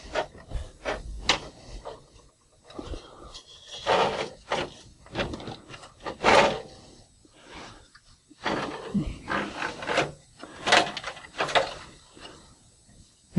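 HP Designjet printer carriage slid by hand along its rail during a belt replacement, giving repeated scraping, rubbing and sliding noises with knocks and pauses, fairly close.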